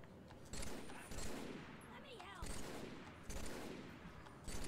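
Repeated bursts of automatic gunfire in Halo 3 arrive at roughly one-second intervals, moderately loud, with game effects sweeping between the volleys and a voice talking faintly beneath.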